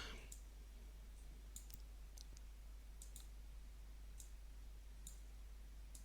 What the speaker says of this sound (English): I'll click on that one